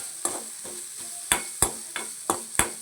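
Crushed ginger and garlic being stirred in a pan: a soft sizzle underneath a series of about eight crisp, close scraping strokes from the spoon, arriving in a loose, regular rhythm.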